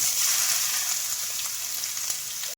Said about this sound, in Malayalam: രണ്ട് ടീസ്പൂൺ കടുക് ചേർത്ത് കൊടുക്കാം മൂന്ന് വലിയ കഷ്ണം ഇഞ്ചി അരിഞ്ഞു വെച്ചിട്ടുണ്ട് അവ ചേർത്ത് കൊടുക്കാം